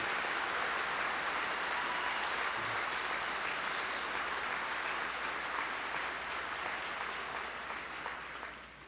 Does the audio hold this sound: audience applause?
yes